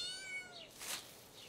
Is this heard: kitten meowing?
yes